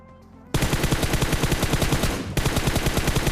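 Rapid automatic gunfire in PUBG Mobile, played on an iPad, bursts loud and continuous for about three seconds after a quiet start, with a brief break before the firing resumes.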